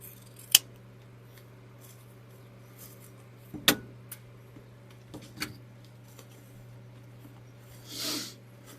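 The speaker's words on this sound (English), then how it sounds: "Just trim that up just a little bit." Scissors trimming material on a watermelon wreath, a few sharp isolated snips spaced seconds apart over a steady low hum, close and moderately loud, with a brief soft rustle near the end.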